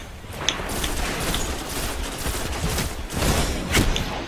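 Rapid bursts of rifle fire in the shooter game Destiny, during a Crucible multiplayer match, rattling out in quick dense volleys close by with sharp thumps near the end, with no talk over it.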